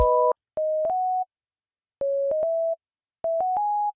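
Simple synth tones sketching major chords with the octave above for a future bass track in Ableton, plain sustained notes in three short bursts of stepped pitches separated by silence, fairly close and clean.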